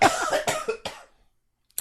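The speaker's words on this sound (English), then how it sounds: "I want to cough for a second" A person with a summer cold coughs several times in quick succession, close and loud, the bursts tapering off before a short silence and a final small sound.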